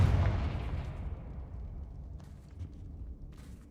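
Magical Confringo fire spell bursts in the video game Hogwarts Legacy: a loud, deep explosive boom at the start that rumbles and decays over several seconds, followed by fainter crackling pops.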